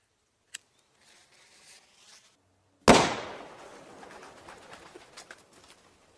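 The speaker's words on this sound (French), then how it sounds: "Attention, je vais envoyer une bombe sur nos ennemis." A single loud, sudden bomb-like blast hits partway through, then a long crackling, debris-filled decay trails off, with a faint sharp pop and quiet scuffing before it.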